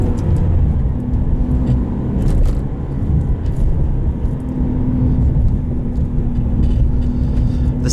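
A 2002 Ferrari 575M engine drones steadily and loud from inside the cabin while driving, a continuous low rumble that dips briefly as the throttle lifts between gear shifts, with no talk.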